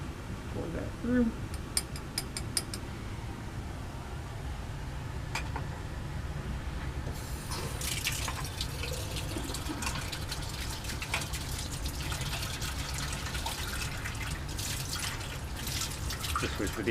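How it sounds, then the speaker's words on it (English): Ice water trickles and drips down the inside walls of an Erlenmeyer flask and through a filter during a bromination quench, a soft, steady liquid wash with faint drips, close and quiet, becoming fuller partway through. "I'm just going to run some ice water down the walls of this Erlenmeyer just to try to get as much of that solid off as I can."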